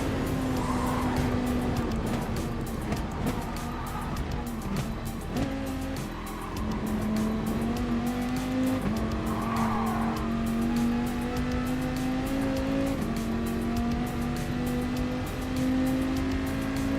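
A race car in Gran Turismo Sport on the Special Stage Route X course holds a loud, sustained engine drone that rises steadily in pitch with brief shifts, under a continuous roar of tire and road noise.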